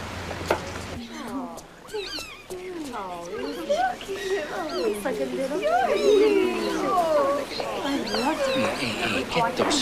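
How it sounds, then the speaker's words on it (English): Several cats meow in a busy overlapping chorus of rising and bending cries, loud and near throughout, with people talking over them. "get those fuzzballs out of here. I'm allergic to cats."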